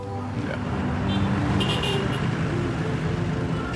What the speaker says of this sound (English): you see the traffic, how crazy it is